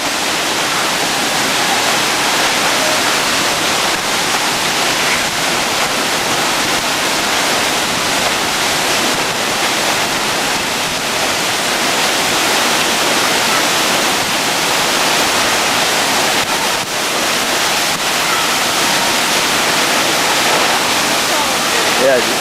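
Victoria Falls in Dominica roars as a dense, continuous broadband rush, loud and unbroken, heard close to the plunging water without pause.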